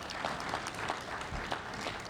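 An audience at the official opening of the Pan-African gathering breaks into applause, a soft, steady patter of clapping hands heard from a distance for a couple of seconds.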